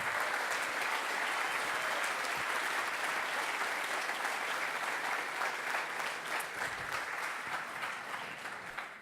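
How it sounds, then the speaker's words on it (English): An awards-ceremony audience applauds volunteers at a Formula SAE Lincoln electric event, a dense, steady wash of many hands clapping that holds loud throughout and thins slightly at the end. "let's give those volunteers and the people from Formula SAE a nice round of applause"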